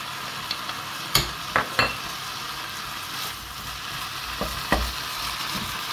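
Leek and chard frying in a pan with garlic, a steady close sizzle broken by a few scraping stirs and light utensil clinks against the pan, no talk.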